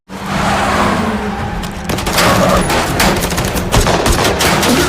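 Rapid bursts of gunfire crack over a car engine and squealing tires in a movie chase where police shoot at a fleeing ambulance, loud dense volleys building after a steady engine drone.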